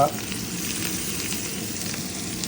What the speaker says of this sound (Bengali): মাছ ভাজার প্রসেসিংয়ে চলে গেলাম